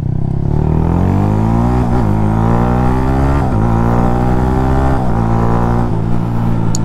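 A 1000RR superbike engine revs hard and accelerates through the gears, its loud rising whine breaking briefly at each quick-shifter upshift, close and continuous with no talk.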